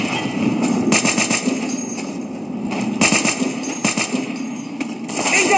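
Rapid bursts of automatic gunfire from the World War Heroes video game, loud and continuous across the whole stretch with dense rattling volleys and no spoken voice.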